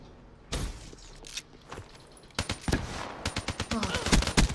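Three-round burst submachine gun firing in a shooter video game, sharp clustered bursts of rapid shots repeating several times, loud and close, with faint game noise between.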